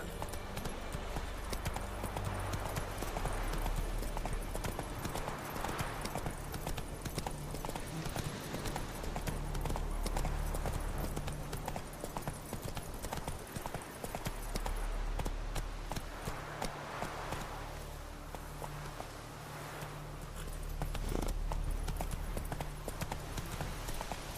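Roach the horse galloping in The Witcher 3, a continuous low, quiet rumble of hooves with faint clip-clop beats and ambient game noise, no speech.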